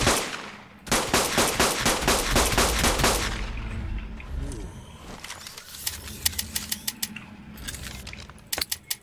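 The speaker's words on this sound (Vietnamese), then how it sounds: "Tôi chỉ biết là nó bắn đùng đùng mà không mất máu thôi." A weapon in the ARK Eternal mod video game fires in a rapid, loud volley of shots, then pauses and resumes with scattered sharp bursts and clatter.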